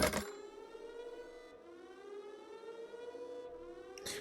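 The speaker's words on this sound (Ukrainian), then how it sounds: "ця сирена мене трошки бісить" A siren wails continuously in a rising and falling civil-defense style tone, steady and fairly faint throughout, with no talking over it.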